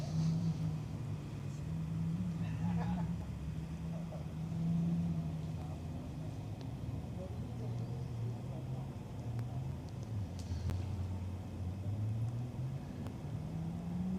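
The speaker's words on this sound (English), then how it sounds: "It's a cool car. It sounds cool." A car engine rumbles steadily at low pitch throughout, holding a continuous drone with slight rises and falls in tone, like idling or slow driving nearby.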